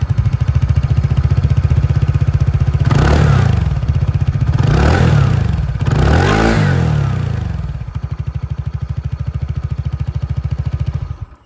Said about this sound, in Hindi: मैं आप लोग को यहाँ पर जो एग्जॉस्ट साउंड है वो भी सुना देता हूँ